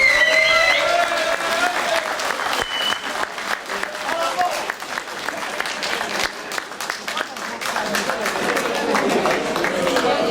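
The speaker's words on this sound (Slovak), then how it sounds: "Veľký potlesk, prosím" Crowd at a Slovak sausage festival, the Kobylská klobásiáda, clapping for prize winners: sustained, dense applause fills the whole stretch, with an announcer's voice over the start and cheers scattered through.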